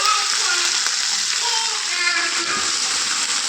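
Vegetables sizzle steadily in a pan of roasted garlic in a home kitchen, a continuous close, even frying hiss with faint stirring clinks.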